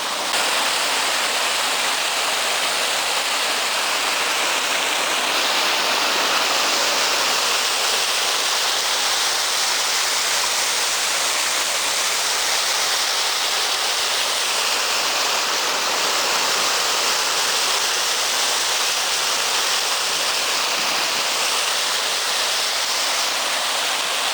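Water gushes steadily and loudly in a continuous hissing rush from a factory pipe into the Sip River, murky, steaming outflow, unchanging for the whole stretch.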